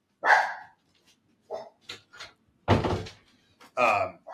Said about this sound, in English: Sorry, I've got fucking dogs here.